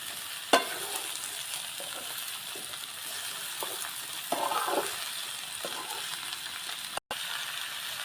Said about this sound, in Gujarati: આપણે સુધારેલા કંટોલા હવે આ કડાઈમાં નાખી દીધા અને આને હલાવી નાખીએ